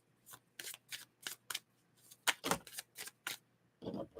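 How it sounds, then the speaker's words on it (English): Oracle cards are shuffled and pulled by hand: about a dozen short, crisp riffling and flicking bursts in an uneven rhythm, close and fairly quiet, with no voice. "Just pull a couple of cards."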